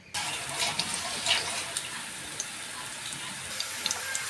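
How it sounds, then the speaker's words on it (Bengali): Banana flower cutlets fry in hot oil in a frying pan, giving a steady, close sizzle that holds at an even level throughout, with no voices. "ফ্রাই প্যানের তেলটা দিয়ে দিয়েছি তেলটা গরম হয়ে গেছে এবার একটা একটা করে ছাড়বো"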